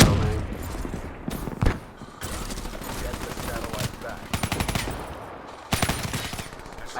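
Automatic gunfire in Black Ops 3 on the Nuketown map comes in several rapid bursts, loud and close, separated by quieter stretches of game ambience and distant shots.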